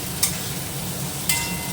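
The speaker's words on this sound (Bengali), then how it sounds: "এবার আমি পেঁয়াজগুলোকে নেড়ে নেব।" Onions sizzle steadily in a pan while a utensil scrapes and stirs them, with a few sharp clinks at intervals.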